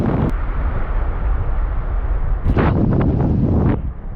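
Strong gusty wind at sea during a storm on a UK cod fishing trip, roaring steadily against the microphone with a louder buffeting gust near the end.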